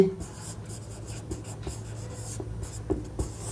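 Chalk or marker scratching out short strokes on a board during a physics class, a run of quick, close, moderately loud scrapes and taps with faint talk beneath.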